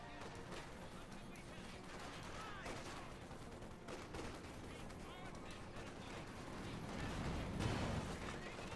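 Heavy machine gun fire and explosions from a Company of Heroes 2 battle: a pintle-mounted MG, T-70 light tanks and a Panzer IV shooting at Soviet Conscripts. Dense, continuous bursts of gunfire, louder toward the end, under steady commentary.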